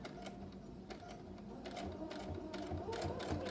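A sewing machine stitches through several layers of bag material, its rapid mechanical whirr running steadily with brief pauses and bursts of speed, close and clear with no talking.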